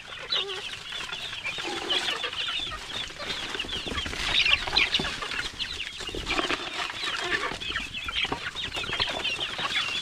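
Dense flock of day-old chicks cheeping and clucking continuously, a busy chorus of many small birds close by with occasional wing flutters, no talk.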